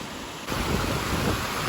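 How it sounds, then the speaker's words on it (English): Rushing river water on a forest hiking trail near Donut Falls, a steady broadband roar that swells up after a brief quieter moment and continues close and full. "the sounds of the rushing water"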